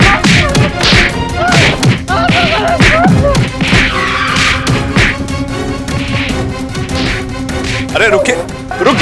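Blows landing on people in a staged beating scene from a Hindi courtroom drama, a rapid run of loud thwacks and thuds with whooshing swings, busy and dense throughout, with shouting voices mixed in.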